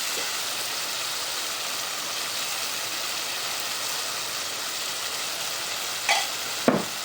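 Fresh Bombay duck (bhumla) with green onion, coriander and salt is stirred together in a hot pan, giving an even continuous sizzle with a couple of scraping spatula strokes near the end.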